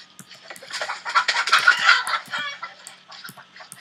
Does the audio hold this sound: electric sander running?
no